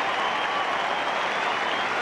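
A large cricket crowd at a Pakistan versus Australia Test match applauds in a steady, dense wash of clapping, heard alone and at a distance.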